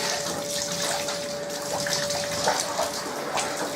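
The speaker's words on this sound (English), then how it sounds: "once it's drained one way, get it round the other way, get it draining that way as well" Water runs and trickles steadily out of a motorcycle textile jacket after washing, a continuous splashing gush with no voices over it.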